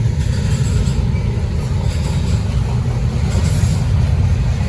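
A Norfolk Southern train rolls past on the Charlotte District under a 30 mph speed restriction, giving off a continuous heavy low rumble of wheels and cars that holds steady and loud throughout.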